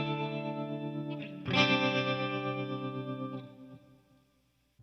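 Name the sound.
clean guitar tone with tremolo, Fractal FX8 plug preset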